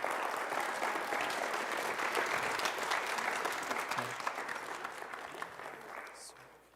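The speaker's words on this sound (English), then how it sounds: "Let's have another round of applause for our seniors." A choir concert audience applauds the graduating seniors, steady dense clapping that carries on for several seconds at moderate distance before gradually thinning and fading.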